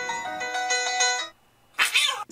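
A cat meows on a watched video, one long, loud, tonal meow, then a brief pause and a shorter, noisier yowl, close and clear with no talk over it.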